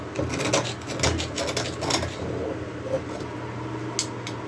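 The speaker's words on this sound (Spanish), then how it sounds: "removemos parte del óxido que quede" Rust being scrubbed off a water pump housing around the impeller, with vinegar as the cleaner: a close, rhythmic rasping rub with several distinct strokes, moderately quiet and heard alone.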